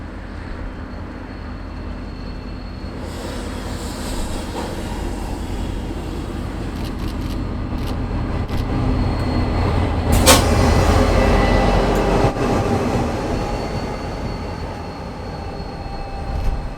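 A southbound Te Huia diesel passenger train, led by DFB 7077 locomotive, rumbles past Huntly station, its low engine drone swelling to a peak midway, then slowly receding, with faint rail squeals.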